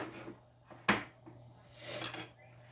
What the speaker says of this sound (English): I'm just going to take my fork and I'm going to start working the herbs and the garlic powder into the butter